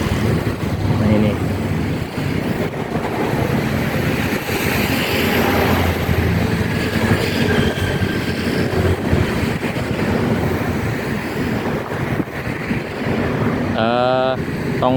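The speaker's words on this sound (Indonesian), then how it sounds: "Nah ini tongkang kosongan 270 feet sebentar lagi akan melintas di bawah jembatan Mahakam." An empty 270-foot barge towed by a tugboat passes under the Mahakam bridge, heard as a steady low engine drone with wind noise and water, while someone talks over it throughout.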